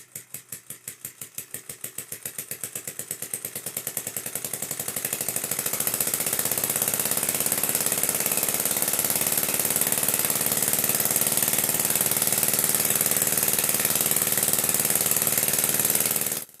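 Homemade diaphragm air engine running, starting as separate rapid clicks that speed up into a loud, continuous buzzing rattle, close and steady until it stops abruptly.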